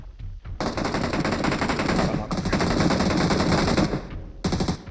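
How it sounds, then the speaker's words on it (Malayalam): Rapid, loud automatic gunfire from the video game BGMI rattles in long, continuous bursts with brief gaps between them, close and dense throughout. "ഗുഹയ്ക്കകത്തുനിന്ന് വെടിവെക്കുന്നു"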